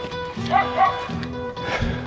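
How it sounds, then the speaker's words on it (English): Small dogs yap from a distance during a neighborhood walk, a few quick high barks in short bursts over steady background noise. "More yappy dogs."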